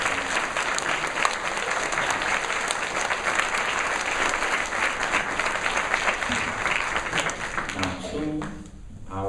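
Sustained applause for parents at an elementary school National Honor Society induction ceremony, a dense crowd clapping steadily for several seconds before tapering off near the end.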